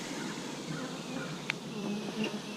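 Bees buzz softly inside an open beehive, a faint continuous drone of many insects with a few brief louder passes near the listener.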